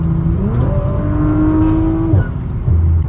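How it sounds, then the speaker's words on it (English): A loud Audi RS5 engine fitted with a 034Motorsport X34 aftermarket air intake revs up and holds high, then drops and revs again, with a strong intake roar right up close. "Love how the car sounds now. I love the induction noise."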